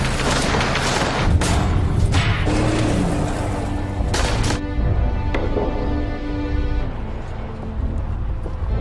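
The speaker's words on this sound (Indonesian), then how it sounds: "Para pemberontak masih belum menyerah untuk mengejar dan menembaki mobil mereka." Rebels firing guns at a fleeing car, with bursts of booming shots and thuds over a constant rumbling background, loud and close with no talk.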